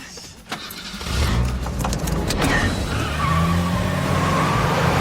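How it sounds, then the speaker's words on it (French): A car engine starts, revs hard and the tires skid and squeal as it pulls away in a getaway scene, loud and close, with the engine roar holding steady to the end. "Sean, démarre la voiture."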